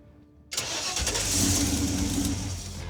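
The Raunchero car engine cranks and catches after a trigger wire repair, then roars up loudly and settles into a rough, steady run close by.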